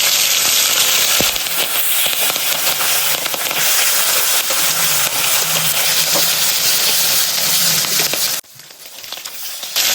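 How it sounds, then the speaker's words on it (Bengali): Hilsa fish pieces frying in hot oil in a wok give a loud, dense crackle and sizzle that fills the sound. It drops abruptly near the end to a softer hiss. "এই যে তেল গরম হয়ে গেছে, ইলিশ মাছটা দিয়ে দিচ্ছি।"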